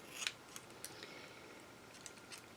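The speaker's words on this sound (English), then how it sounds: "get a good pair of scissors, but look how easy that cut" Sharp scissors slice through thick material for handmade flowers, giving a few quiet crisp snips spaced irregularly, each a brief bright crunch over a soft background hiss.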